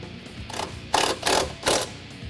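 Ratchet tightening bolts on a 2015-2023 Mustang GT suspension during a lowering-spring install, heard as three short bursts of rapid clicking, close and fairly loud, with no talking.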